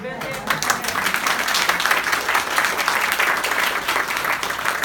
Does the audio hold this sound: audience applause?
yes